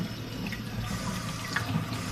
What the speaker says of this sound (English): you can go ahead and rinse them with some cold or warm water